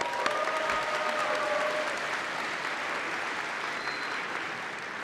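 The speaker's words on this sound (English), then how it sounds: "You can clap." An audience applauds at Bishop's University 2025 convocation ceremony, a broad sustained wash of many hands clapping in a large hall, steady and slowly easing off.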